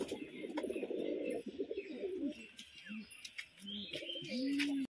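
Domestic fancy pigeons in a loft, including a male, cooing up close: repeated low burbling coos and throaty calls, some overlapping, with faint chirps and rustling behind them and no speech.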